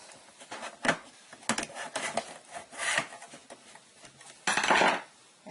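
A hose clamp is tightened onto the pump hose of a Kangen water machine, making small scraping, clicking metal-on-plastic sounds in irregular bursts, close and fairly quiet, with one longer rasping burst near the end.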